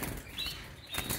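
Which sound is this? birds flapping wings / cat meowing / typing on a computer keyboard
birds flapping wings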